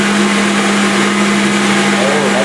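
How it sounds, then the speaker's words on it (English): A Vitamix blender whirs at full speed while blending a homemade yogurt mixture, a loud, steady, high-pitched motor roar with a constant hum, heard very close and uninterrupted. "Microphone right by the Vitamix."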